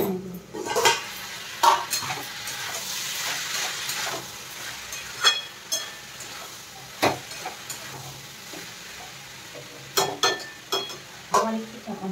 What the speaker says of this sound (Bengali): এবার ঢাকাটা খুলে একটু নাড়িয়ে নেব।